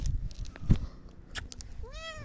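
A short, close cat meow rises near the end, clear above a low background of handling noise and thumps, with no talking.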